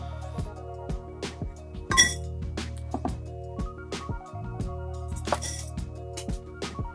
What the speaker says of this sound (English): glass vessel here.